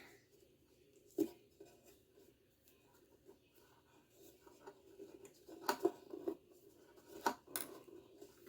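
A few quick snips of scissors cutting string, brief sharp clicks standing out over quiet handling noises and faint rustling.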